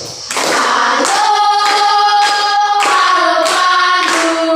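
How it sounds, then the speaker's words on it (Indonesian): Hands clap in a steady, repeated rhythm alongside a sung melody of the song "Halo-Halo Bandung" in a classroom, the claps sharp and close with tonal singing carrying between them. "Sambil tepuk tangan."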